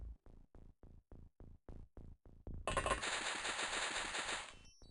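Automatic gunfire from the X-COM: UFO Defense video game: a rapid series of about nine sharp separate shots, then a dense, loud sustained burst of fire that fades out, with no talking.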